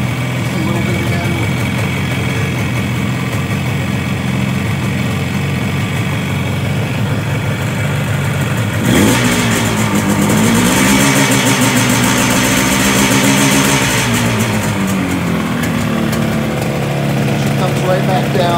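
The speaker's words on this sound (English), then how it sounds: "Been messing with the idle spools to get it to idle at about 1500." Yamaha RD350 two-stroke motorcycle engine idling at around 1500 rpm, a steady close-up drone that climbs in revs briefly midway before settling back to idle.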